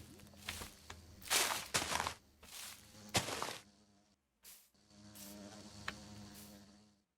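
Minecraft bees in a bee greenhouse give off thin, insect-like buzzing, broken up by loud scuffing bursts like game footsteps and movement. The buzz fades in and out, then drops to near silence before a softer stretch returns.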